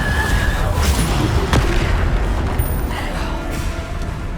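The Bombarda blasting spell detonates in Hogwarts Legacy with a loud, booming explosion and a sharp crack, followed by rumbling debris and lingering game ambience.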